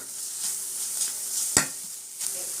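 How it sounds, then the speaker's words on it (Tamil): Coriander powder sautés in hot oil in a home kitchen, a soft continuous sizzle with a few faint scrapes of stirring and one sharp click midway, quiet and close with no talking. "இப்போ நம்ம வந்து மல்லித்தூள் எண்ணெயில் போட்டு நல்லா வதக்கி எடுத்தாச்சு"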